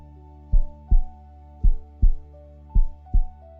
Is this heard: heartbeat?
yes